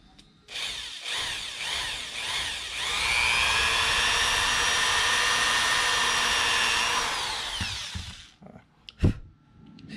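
A power drill bores a hole in a brushcutter throttle cable fitting, a loud whining drone that holds steady for several seconds after a brief start, then cuts off, leaving a few small clicks.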